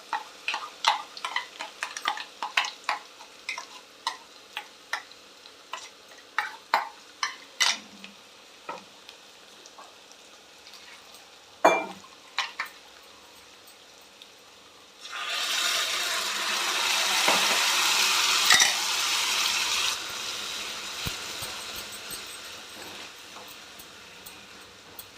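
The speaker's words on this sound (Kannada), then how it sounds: "ಇವಾಗ ನಾವು ರುಬ್ಬಿಟ್ಕೊಂಡಿರುವಂಥ ಮಸಾಲೆನ ಹಾಕ್ಕೊಳ್ಳೋಣ" Ground masala paste for a wedding-style pineapple gojju hits hot oil in a pan with a sudden loud sizzle, preceded by sharp ladle clinks and taps as it is stirred, the frying hiss then continuing steadily.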